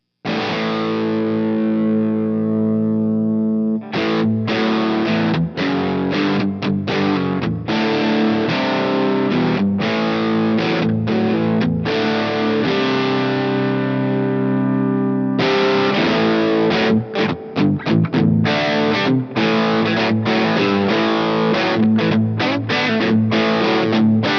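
Electric guitar through a Proco Rat distortion pedal emulation, loud and gritty: long ringing chords open, then a run of tight, rhythmic palm-muted stabs and chugs that returns to held chords and choppy riffing.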